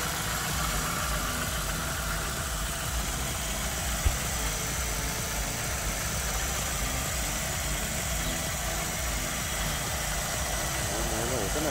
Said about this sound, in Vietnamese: Máy nổ rất là đều, rất là êm.